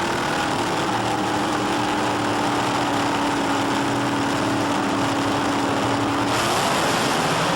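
Drag racing car engines at the start line at Castrol Raceway in Edmonton hold a loud, steady droning rev, the pitch shifting and climbing near the end as the cars get ready to launch.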